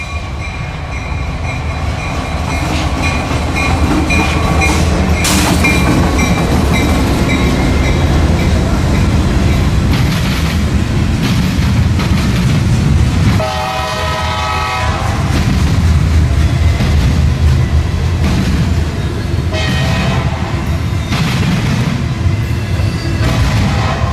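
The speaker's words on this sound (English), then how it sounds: "Our next train would end up being an eastbound Intermodal for Savannah, Georgia, out of Chicago, Illinois, with a SD70 flared Mac." An eastbound intermodal freight train led by an SD70 flared-radiator locomotive roars past at close range, engine rumble and wheel clatter steady throughout, with a loud horn blowing in the middle.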